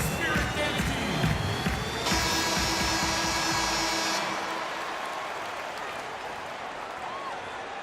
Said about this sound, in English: A big round of applause for your Spirit Dance team.